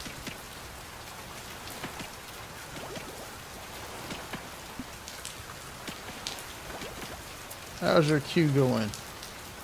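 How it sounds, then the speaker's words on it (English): Soft, steady video game rain in Oceaneers patters with scattered drops landing nearby, and a person speaks briefly near the end. "It will be light raining today."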